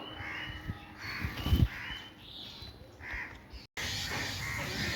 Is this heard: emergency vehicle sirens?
no